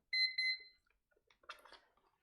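A timer alarm goes off close by as a few quick bright electronic beeps in a short pulsing burst, followed by quiet clatter and soft sounds.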